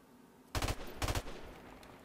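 Gunfire in Call of Duty Modern Warfare Remastered multiplayer rings out as two short, loud automatic bursts close together, heard alone without speech.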